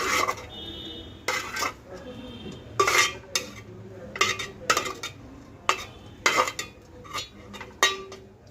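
Fried fenugreek leaves and tomato being scooped from a pan onto a plate, with repeated metal spoon scrapes and clinks against cookware in irregular bursts.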